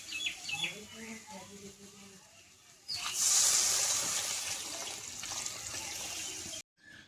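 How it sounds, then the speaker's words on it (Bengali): Water poured into a pot of sabudana khichdi with dal and vegetables, a sudden rushing splash that starts midway and runs steadily for a few seconds before stopping, following a woman's quiet speech. "এবার আমি জল দিয়ে দেবো।"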